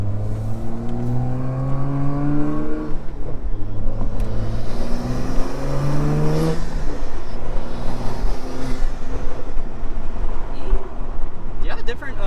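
Interior ride-along in a tuned FBO BMW M235i at night: the engine pulls hard through rising revs, dips at a gear shift near midway, then climbs again, loud and close with continuous cabin drone.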